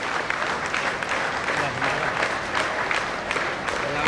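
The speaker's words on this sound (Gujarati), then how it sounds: "હાથ તૂટી જાય ત્યાં સુધી આપણે તાળીઓના ગડગડાટથી આપણે વધાવીએ" Sustained applause from a large audience at a Shiv Maha Puran religious discourse in Harda, Madhya Pradesh, a dense even roar of clapping that stays steady throughout.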